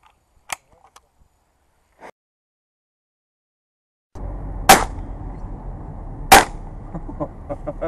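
During a crow hunt in Cyprus, two sharp, loud shotgun blasts ring out a couple of seconds apart over outdoor background noise, after a few faint clicks.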